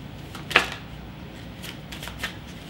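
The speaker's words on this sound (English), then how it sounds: "Give these a little shuffle." Everyday Witch tarot cards riffle and slap together in a few short, crisp bursts, with one sharper flick standing out against a quiet room.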